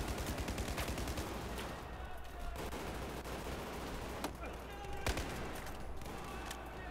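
Sustained gunfire rattles through a Battlefield 4 campaign firefight, a dense, continuous barrage of shots with a few sharper cracks standing out, heard close and loud throughout.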